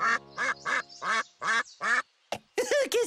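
A duck quacks in a rapid series of about nine loud, nasal calls, evenly paced at first and then quicker and more clipped, close by and alone with no voices.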